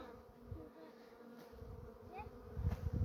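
Honeybees swarm around an outdoor wintering hive, a steady low insect drone that holds throughout at moderate, close range with a faint swell near the end.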